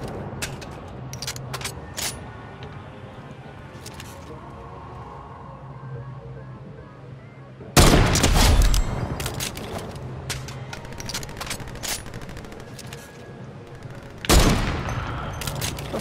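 Pistol fire in a video game, shots crackling sharply in scattered bursts at varying distances, with two loud close volleys standing out against the steady background of the match.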